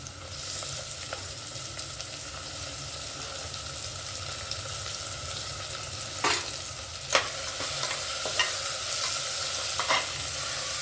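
Tomatoes frying in a pan while dal khichdi is stirred, a steady sizzle with a few sharp scraping clinks of the spoon, close and continuous with no talking.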